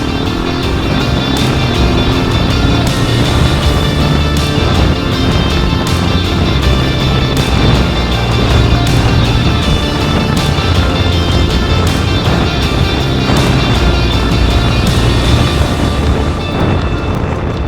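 Suzuki DRZ400 motorcycle engine labouring through deep beach sand at Rainbow Beach, a loud, continuous close-up roar with wind noise that strains and bogs down toward the end.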